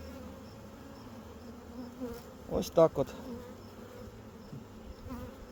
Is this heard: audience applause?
no